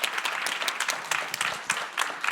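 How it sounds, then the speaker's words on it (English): A seated audience at a science showcase event claps in a dense, lively burst, near and steady with a few sharper individual claps standing out. "Another round of applause."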